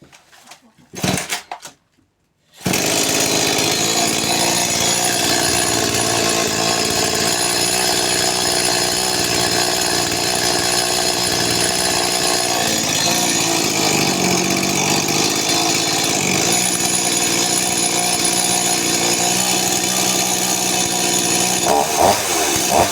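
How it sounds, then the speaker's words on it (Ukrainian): A small saw starts after a few brief knocks and then runs loud and steady for about twenty seconds, its engine whine holding at one pitch with only slight wavering near the end. "Тепер у мене пилочка працює."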